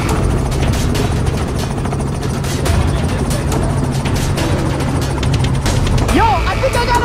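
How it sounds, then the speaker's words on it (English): A helicopter drones with a steady rotor roar throughout, loud and continuous, while voices talk over it near the end. "I'm gonna try to go in the helicopter!"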